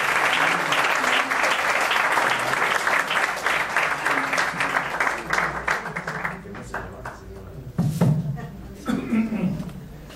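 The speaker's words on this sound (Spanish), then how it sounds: "a sus órdenes y recibimos un aplauso." Loud, sustained audience applause greets the speaker at an evening lecture on rubber balls in the Codex Mendoza, then thins out with scattered claps and a few chuckles.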